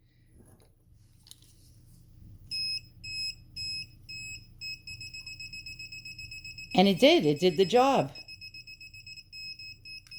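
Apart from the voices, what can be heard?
metal detecting pinpointer beeping alert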